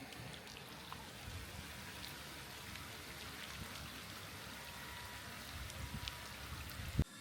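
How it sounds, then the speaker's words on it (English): Heavy rain drums steadily on the roof of a narrowboat moored off-grid on the Shropshire Union Canal, a dense, continuous patter without voices, ending in a single sharper knock. "It's raining really hard now."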